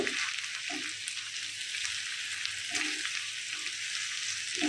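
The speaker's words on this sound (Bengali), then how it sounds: "এখন পেঁয়াজের সাথে এই ভালো মতো পেঁয়াজ কষিয়ে নিতে হবে দুই তিন মিনিটের মতো" Onion paste fries in hot oil for a koi fish curry, a steady close sizzle with a few soft stirring scrapes mixed in and no voices.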